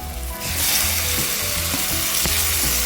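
Onions and tomatoes for egg masala frying in a pan, a loud continuous sizzle that swells after a quieter start, with occasional stirring taps and no talking.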